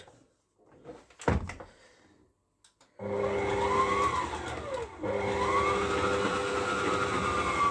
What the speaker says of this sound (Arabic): وهشغل العجان ويقلب العجين الزيت الاول